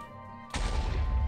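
An explosion in the Minecraft video game hits suddenly over quiet game background tones, a loud booming blast that rumbles on and stays heavy through the rest of the moment.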